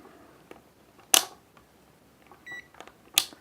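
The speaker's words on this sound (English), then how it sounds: "Let's put the meter on continuity here." A multimeter set to continuity gives one brief, thin electronic beep while wiring for a three-way switch is tested. Faint clicks and a couple of sharper taps from handling the probes surround it, with no talking.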